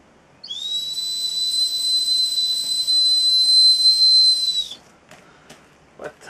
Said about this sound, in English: What high sound, good for a rescue whistle.